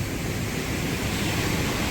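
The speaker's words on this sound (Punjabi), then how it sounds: "ਇਸ ਜਗ੍ਹਾ ਤੇ ਕਾਫੀ ਝਾਲ ਪੈਂਦੀ ਆ" Canal water rushes over a weir beside a bridge in poor condition in Punjab. It makes a steady, moderately loud hiss and roar that continues without a break.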